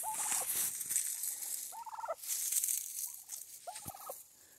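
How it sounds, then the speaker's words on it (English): Wild turkeys gobble near a woodland pump house, a few loud, rattling gobbles in quick succession, close by, with no talk. "The turkeys have found me."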